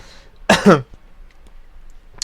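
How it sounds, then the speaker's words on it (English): A short double cough, close and fairly loud, followed by quiet room tone and a faint sound at the end. "I'm sorry for my coughing."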